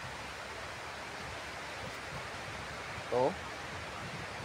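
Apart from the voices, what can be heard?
heavy rain pouring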